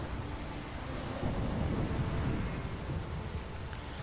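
Rain and thunder in the video game Witcher 3, a steady hiss of rainfall with a low rolling thunder swelling midway, continuous ambient storm without voices.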